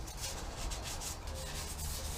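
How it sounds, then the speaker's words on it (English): Quiet, rhythmic scratchy rubbing strokes repeat steadily as painted metal on a 1965 C10 truck is sanded, a gritty abrasive sound close by with no voices. "I'm gonna get some sanding done on it"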